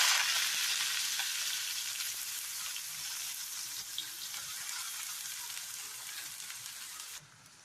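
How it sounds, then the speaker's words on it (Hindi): Loud, steady sizzling and crackling of onions frying in hot oil in a kadhai, close up and continuous, easing slightly before a sudden drop near the end. "कढ़ाई में तेल गरम हो चुका है। अब एज यूजुअल मैं पहले प्याज डाल रहा हूँ।"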